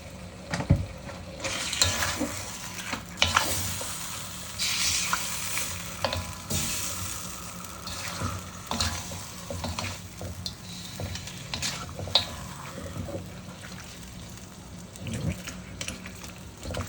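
Mutton biryani masala sautés in ghee in a pan, with close, continuous sizzling and frying crackle broken by repeated stirring scrapes and clinks.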